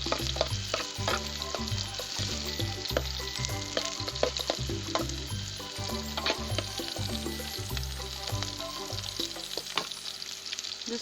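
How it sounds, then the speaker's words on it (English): Onions frying in a pot over a firewood fire in a village kitchen, sizzling steadily and loudly with repeated scraping stir strokes forming a rhythmic low knocking throughout, no voices. "Adding my onions, and let them cook until they are golden brown."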